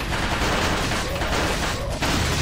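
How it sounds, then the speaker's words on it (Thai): A TMP submachine gun fires in Resident Evil 4, a dense, loud stream of rapid automatic shots with little gap between bursts. "เมื่อเจอกับ TMP ปล่อยแม่งยิงไปนะครับ"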